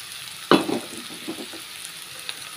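Chopped garlic, okra and tomato sizzle in a frying pan, with a sharp burst as something is stirred, then a softer steady crackle fading to a quiet hiss.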